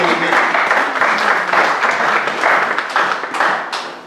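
Applause from a church congregation, a dense continuous wash of clapping hands filling the room, steady and fairly loud for several seconds before tapering slightly.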